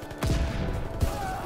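Shotgun blasts in Call of Duty: WWII, two sharp loud reports about a second apart, each with a booming tail, over faint game background.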